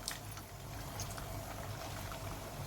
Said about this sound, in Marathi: तेल तापले तेलामध्ये आपण हे सोडून घेऊया